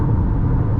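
Steady close road roar of a Honda CR-V rolling on a concrete highway, with dense low rumble of tyre noise and cabin drone continuous throughout, no talk.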